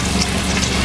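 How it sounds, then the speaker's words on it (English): Chopped onions fry in a pot for Nigerian ofada jollof rice, giving off a steady, loud hiss and sizzle with no voices over it. "While the onions is getting fried"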